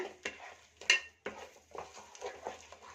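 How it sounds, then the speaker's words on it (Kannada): A spoon stirring coriander vada batter in a heavy-bottomed pan, with close, irregular scrapes and clinks against the metal and soft pasty sounds between them. "ಈಗ ಚೆನ್ನಾಗಿ ಮಿಕ್ಸ್ ಮಾಡ್ಕೊಳ್ಳೋಣ"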